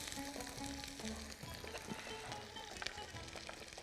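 Onions sizzle and fry in a hot pan with a steady crackling hiss, while a voice talks faintly in the background.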